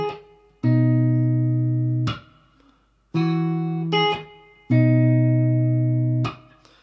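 Fingerstyle acoustic guitar intro of a song, several plucked chords each left to ring and decay before the next, played close and alone.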